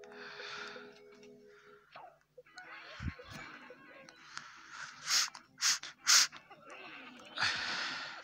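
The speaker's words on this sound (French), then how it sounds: "Pardon pour le bruit de ma respiration, si on entend encore." Heavy, close breathing from a gamer playing a zombie mobile game: several loud puffs and gasps of air sound near the microphone over a faint background.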